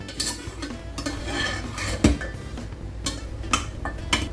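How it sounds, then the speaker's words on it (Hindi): Utensil stirring yogurt into nihari in a pot over low heat gives repeated clinks and scrapes of metal against the pot, with one sharper knock near the middle, steady and close with no talking. "उसके बाद कंटिन्यूसली इसे हमें पकाना है, हिलाना है।"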